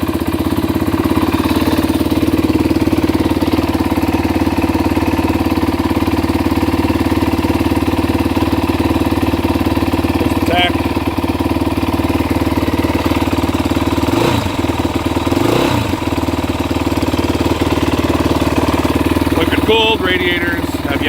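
A Yamaha WR450F motorcycle engine idles steadily and loud throughout after a kick start, with a constant low throbbing hum and a few brief clicks and rattles; a person speaks briefly over it.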